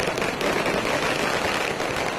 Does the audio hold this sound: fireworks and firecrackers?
yes